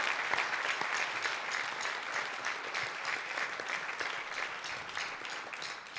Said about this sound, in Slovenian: še en aplavz za Špelo.